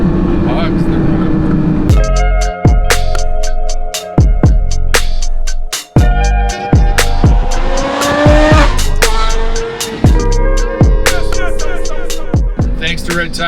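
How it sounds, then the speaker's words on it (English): A modified Porsche Carrera GT revs hard and loud up close, its high-pitched engine climbing and dropping through repeated rapid gear changes over about thirteen seconds, with brief tire squeal. "we got to capture some of my driving moments today in my Carrera GT"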